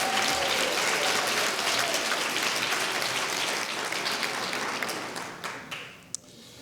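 Audience applause at a rural arts and culture summit plenary session, a dense steady wash of many hands clapping that thins out and fades toward the end, with a few last scattered claps.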